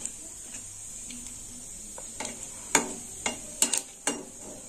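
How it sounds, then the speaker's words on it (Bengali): Tempering spices fry in a small amount of hot oil, a quiet low sizzle broken by several sharp, separate pops and crackles that cluster toward the end. "ফোড়নটা ভাজা হয়ে গেছে।"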